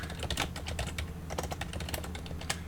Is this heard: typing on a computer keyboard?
yes